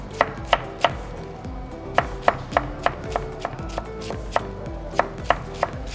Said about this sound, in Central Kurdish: بەم شێوازە جوان کەلەرمەکە ورد دەکەین